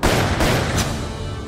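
Sharp, loud gunshots from a Walther PPK 9 mm short pistol ring out close by, a few quick reports in succession followed by a lingering echoing tail.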